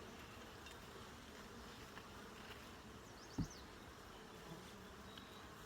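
Honey bees buzz in an open hive during an inspection, a steady, soft, dense drone close by that holds evenly throughout, with one brief knock partway through.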